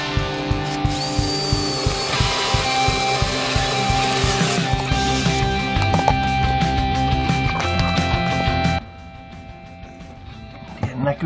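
A power drill bores through a home's wall in a living room, a steady loud whirring grind with rhythmic chatter that runs for about nine seconds, then stops, leaving quieter room noise.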